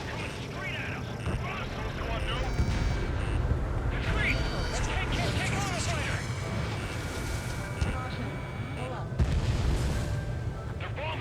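Bombing explosions in the Ace Combat 7 flight combat game, heavy booms and artillery-like blasts rolling continuously over aircraft noise, with bursts of louder impacts around the middle and near the end, mixed under radio chatter.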